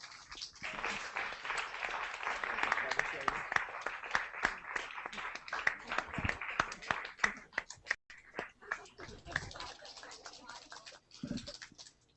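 A debate audience claps for student teams from Novi Sad and Banská Bystrica, a fairly quiet, uneven patter of hand claps that thins out near the end, with a brief voice or two cutting through.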